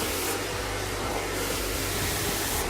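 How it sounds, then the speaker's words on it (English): A hair dryer blows steadily while hair is being blow-dried over a round brush for volume, a continuous loud airy whoosh with a low hum, its tone shifting slightly as the dryer moves, with no talking. "when you're blow drying hair"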